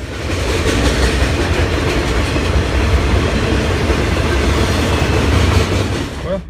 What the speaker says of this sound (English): As you can see, the train's going by.